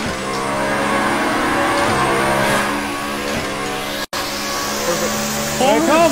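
A Corvette race car engine in the racing game Assetto Corsa, a loud sustained engine roar with rising and falling revs and a brief dropout, with an excited voice cutting in near the end.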